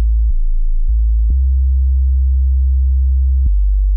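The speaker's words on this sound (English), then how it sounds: "you select a sine wave, and you're gonna put this sine wave between 40 to 80 Hz" A pure sine-wave sub bass sits between 40 and 80 Hz, a loud, steady low hum with a few brief clicks where the tone shifts.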